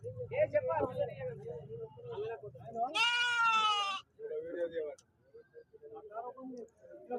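A single loud, quavering bleat from a sheep rings out for about a second at the Siddipet weekly market. Someone talks before and after it over a low crowd murmur.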